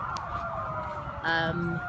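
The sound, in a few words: motorcade sirens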